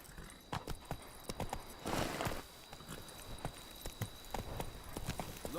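Geralt's horse Roach in The Witcher 3: Blood and Wine, hooves clip-clopping in a quick, irregular run at moderate distance, with a brief louder burst of movement midway.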